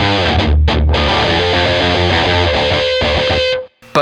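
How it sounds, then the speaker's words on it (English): An electric guitar riff through overdrive distortion: loud, fast, chugging notes that run continuously before cutting off abruptly near the end. "The overdrive distortion, it would do okay for the chorus."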